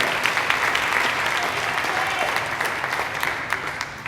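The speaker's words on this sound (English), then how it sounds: "A round of applause for WBAI of New York and the Pacifica Network that's carrying this program." Steady audience applause for a radio program carried on WBAI New York and the Pacifica Network, a dense continuous patter of many hands throughout, with faint voices mixed in.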